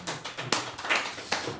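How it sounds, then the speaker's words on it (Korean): A small group gives brief scattered applause in a Korean senior talk-show studio, a few soft uneven claps over about a second and a half with no talking. "박수 한번 치시죠."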